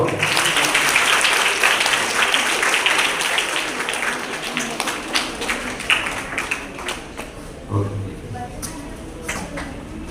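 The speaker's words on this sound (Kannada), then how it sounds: "ಚಪ್ಪಾಳೆ ಬರಬೇಕು" Crowd applause at a state-level open karate tournament in Mysuru, dense and loud clapping at first that thins into scattered, uneven claps, with voices murmuring underneath.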